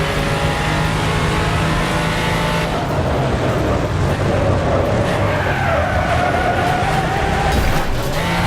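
Car tires locking up and skidding in the Wreckfest racing game, a steady engine drone with tire scrub running continuously and loud, with no talking.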